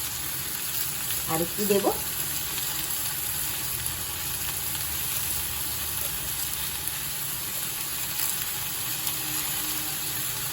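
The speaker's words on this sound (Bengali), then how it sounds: "একটু ভাজা ভাজা হতে দেবো, পেঁয়াজ মশলার সাথে কষানো যেটাকে বলে" Onions and spices fry in a pan with grated ginger, giving a steady, close sizzle throughout; a voice speaks briefly near the start.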